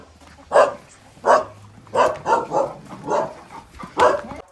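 A dog barks six times in uneven bursts, fairly close, with short pauses between barks and a low hum underneath.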